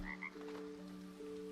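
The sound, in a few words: frog croaking in a gardening video game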